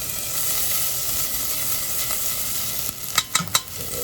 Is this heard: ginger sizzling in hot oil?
yes